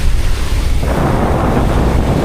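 Strong, constant northeast wind on the Pacific Ocean roars into the microphone from a boat, a dense low rumble with a steady rushing hiss over it, loud and unbroken.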